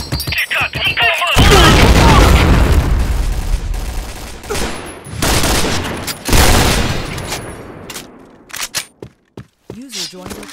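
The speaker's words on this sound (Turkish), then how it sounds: "Bomba atıyorum." Grenade explosion and rapid gunfire in the video game Point Blank, dense bursts of shots and booming blasts filling most of the stretch, thinning into scattered shots near the end, with a voice talking over parts of it.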